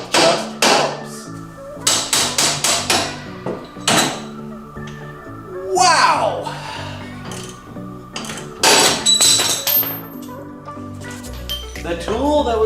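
Sharp metallic hammer strikes ring out in irregular bursts on a Miata's suspension ball joints in a garage, loud and close, with a brief spoken exclamation between blows.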